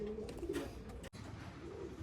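A tail-black pigeon coos softly in a loft of fancy pigeons, a low rolling call repeated over faint background noise, with a brief dropout midway.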